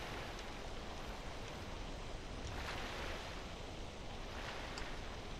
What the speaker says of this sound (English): Hey, there's another waterfall.